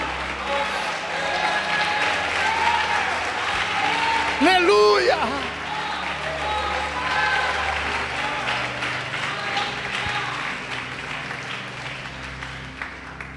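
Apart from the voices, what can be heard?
congregation applauding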